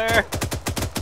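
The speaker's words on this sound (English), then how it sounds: "Shooting at me. Shoot back then." Rapid automatic gunfire in the military shooter Arma 3, a quick burst of sharp repeated shots over a short stretch with a brief tonal sound at the start.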